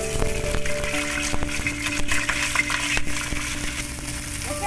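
Cauliflower florets fry in oil and ghee with cardamom and cloves in a pan, giving a continuous close sizzle broken by scraping stirs.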